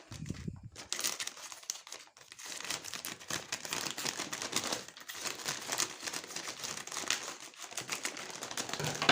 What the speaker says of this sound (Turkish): Hemen güllerimizin paketini açalım.